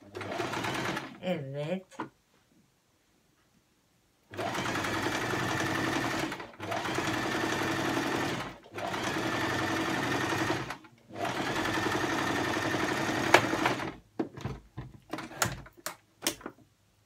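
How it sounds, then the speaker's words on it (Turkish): Sewing machine running a straight seam on fur for a hat, three sustained bursts of loud, even motor whirring separated by short pauses, with brief speech at the start and scattered handling clicks at the end. "Şimdi bunu da bakın böyle açıyorsunuz düz ve dümdüz dikiş çekiyoruz."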